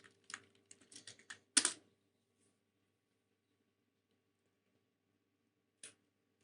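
Keystrokes on a computer keyboard, a quick burst of about a dozen taps and one heavier clack close by, then silence with a single last tap.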